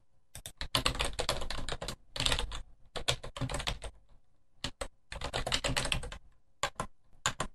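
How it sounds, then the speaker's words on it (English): An email address is typed on a computer keyboard in close, crisp clusters of rapid key clicks, with short silent gaps between bursts and no talk. "Notice I typed in jsmith@smithcon as the email address"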